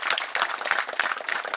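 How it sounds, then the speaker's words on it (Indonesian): Brief, moderately quiet burst of applause from a crowd gathered at a dragon fruit planting site in Jayapura, Papua, with irregular claps. "Tepuk tangan dulu untuk kita."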